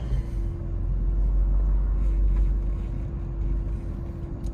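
A 1975 Mercedes-Benz 450SL pulling away on a Michigan day, heard as a steady, close engine drone and low rumble that swells slightly, with no voices.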